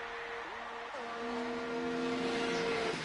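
Race car engine in a racing video game sounding faulty, a thin steady whine with small pitch jumps that drops off near the end over a hissy background, with no voices.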